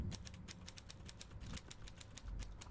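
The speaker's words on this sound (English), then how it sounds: "nothing's actually told me it's saved, just made some typewriter noises at me" Typewriter keystrokes sounding on saving in the video game Penance, a steady string of sharp, quiet clacks at a brisk even rhythm for a few seconds, with no voices over them.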